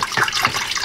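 Mildly warm water with a few drops of washing-up liquid, readied for tanning a squirrel skin, splashes and pours in a short, close burst.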